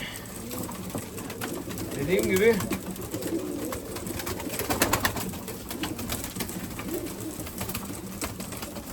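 Soft cooing of Erzurum white breeding pigeons in a loft with hundreds of birds drifts in the background while someone talks and there are scattered rustling noises.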